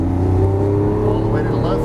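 A Lamborghini Aventador accelerates out of a turn on a track, its engine a loud, steady droning growl heard from inside the car, with a voice speaking over it.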